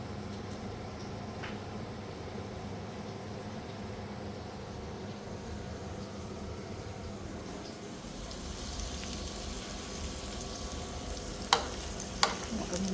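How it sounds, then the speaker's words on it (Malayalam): Garlic fries in unsalted butter in a pan, giving a continuous, fairly faint sizzle with a low steady rumble underneath, then a couple of sharp clicks near the end; no talking. "ഈ വെളുത്തുള്ളിനെയും കൂടെ നമ്മളിട്ട് നന്നായിട്ട് ഫ്രൈ ചെയ്യാം."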